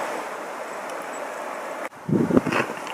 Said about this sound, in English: It's some of the worst wind we've ever hunted in.